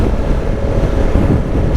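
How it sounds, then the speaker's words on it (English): Strong wind buffets a motorcycle rider on a windy, desert-like road beside yellow-brown water, a loud steady roar of wind noise filling the whole stretch with no voices. "so I have to fight against the wind once again."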